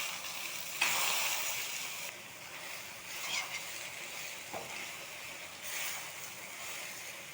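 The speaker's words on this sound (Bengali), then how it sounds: "আমি এখানে সবগুলো সয়াবিন ভাজতে দিয়েছি। এখন এখানে একটুখানি হলুদ দিব।" Soybean chunks fry with a little turmeric in a pan, a steady close sizzle with a few brief stirring scrapes and no talking.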